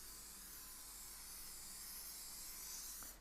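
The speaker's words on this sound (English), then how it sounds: "do the same thing that you did the first time, which is spraying them all over with the oil" Cooking oil sprayed in a long, steady hiss over sliced eggplant, the broad close spray running unbroken for about three seconds before cutting off.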